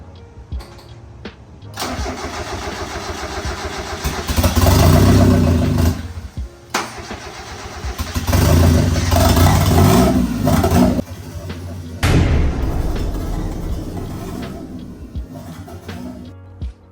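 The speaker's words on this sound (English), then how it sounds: "it's gonna be first start of the boosted Miata" A turbocharged Mazda Miata engine cranks and fires up for its first start, then revs repeatedly in loud surges, dropping back to a rough idle between bursts.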